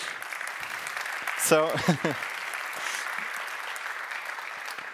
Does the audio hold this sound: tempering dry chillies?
no